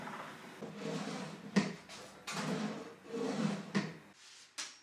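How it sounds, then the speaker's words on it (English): A wooden drawer with candle-waxed runners slides in and out several times, close by. Smooth rubbing strokes end in soft wooden bumps as it closes. "The drawer was fitting a little sticky, so a bit of candle wax on the runners will help."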